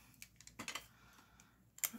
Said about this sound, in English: So what I do is I just tape it down.